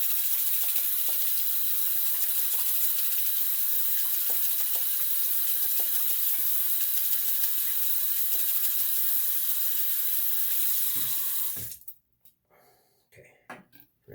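Steady broadband rush of water running from a bathroom tap while a shaving brush is rinsed, loud and continuous for about twelve seconds before being shut off, followed by a few faint handling knocks.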